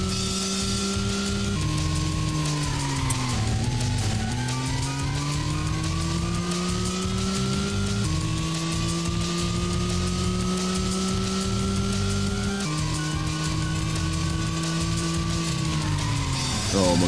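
Car engine running steadily and loud throughout, with repeated rising revs as gears shift up, the pitch climbing and dropping back at several points over a sustained close drive.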